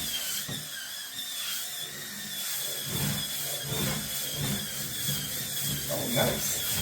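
A YKYI electric spin scrubber whirs steadily with a stiff-bristled brush head as it scrubs a tub, a constant motor whine with some rubbing under occasional talk.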